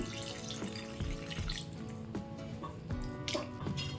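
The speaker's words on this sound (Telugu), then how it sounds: "చూడండి గ్లాస్ వాటర్ వేస్తున్నాను" A glass of water is poured into a pan of pumpkin curry, giving a close, splashing trickle with a few sharper drips and clinks of the vessel.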